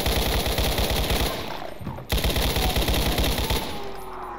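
Rapid automatic fire from an assault rifle in the video game The Ultimate Doom, loud continuous bursts with a brief pause near the middle before the shooting resumes.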